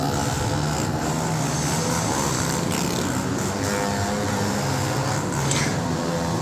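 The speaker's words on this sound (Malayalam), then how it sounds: "രണ്ട് കാല് നീട്ടി വെച്ചിട്ടൊക്കെ ബൈക്ക് ഓടിക്കുന്നുണ്ട് കേട്ടോ" Motorcycles roaring around the wall of a well of death show at a night fair in Kozhikode, a dense, loud, sustained engine drone that fills the space without a break.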